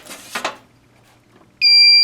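A fire alarm system sounding during a test gives a sudden, loud, steady electronic tone that cuts in near the end, after a brief burst of noise and a quiet stretch.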